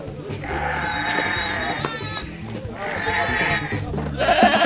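Several sheep and goats bleat close by, wavering cries overlapping in two long bursts over a busy background murmur.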